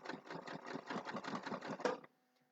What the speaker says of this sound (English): So I'm sewing along